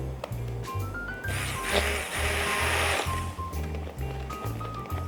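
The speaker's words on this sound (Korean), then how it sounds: "양이 적어서 핸드블렌더로 갈아주는데요" A hand blender whirs steadily at close range, its motor pitch rising and surging as it churns a thick crepe batter, with a faint tune underneath.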